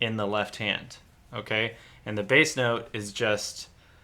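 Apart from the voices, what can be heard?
No everyday noises stand out.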